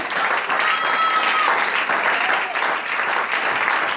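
A church congregation claps in a dense, steady burst of applause that fills the whole stretch at an even level. Voices are mixed in among the clapping.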